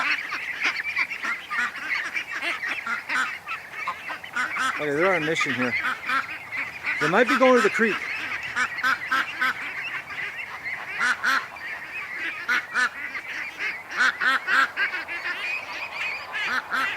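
Repeated honking of Canada geese with a gosling, close and insistent, with calls in quick bursts while a person talks quietly over them.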